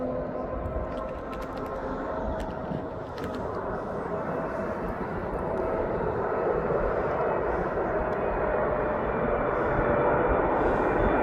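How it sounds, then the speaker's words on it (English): A DHL Boeing 777 freighter in from Dubai lands at East Midlands Airport, its low engine rumble steady and gradually swelling, with faint clicks on top and no clear speech. "This is the DHL 777 freighter."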